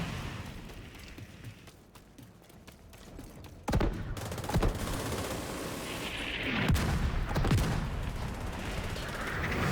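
Rapid turret gunfire in the video game Division 2 rattles in dense bursts, with sharp heavy impacts and blasts punching through a continuous roar of combat, fairly loud and close throughout.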